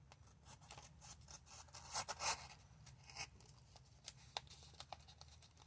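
Scissors snip off a small piece of material for a graffiti tumbler, a few quiet close cuts and rustling sounds over several seconds.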